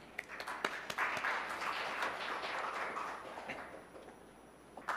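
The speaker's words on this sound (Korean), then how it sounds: "큰 박수로 맞아주시기 바랍니다" Scattered applause from a conference audience welcoming a finance research institute director to the stage, a few sharp claps standing out over a soft, fairly quiet patter.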